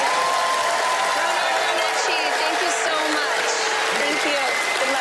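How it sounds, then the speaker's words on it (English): A studio audience applauds at a Penn & Teller Fool Us magic show in Las Vegas: dense, steady clapping with crowd noise runs throughout, with faint tonal music lines beneath. "Give him another warm round of applause."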